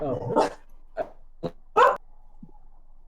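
A dog lets out three short, sharp barks spaced about half a second apart, fairly close and moderately loud, after a person speaks briefly at the start.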